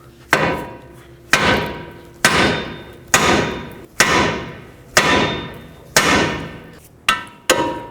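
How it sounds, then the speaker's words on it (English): Loud metallic hammer blows on the steering knuckle of a 2007-2009 Saturn Aura, about nine strikes at a steady pace, each ringing briefly before the next, close up with no talking. "Now take your hammer and hammer on the knuckle."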